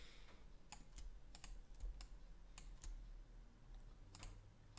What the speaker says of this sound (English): We're gonna Q on the keyboard